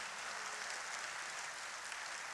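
A church congregation applauds during a 2023 teacher appointment service, a steady broadband wash of clapping held at an even level for the whole span with no voices over it.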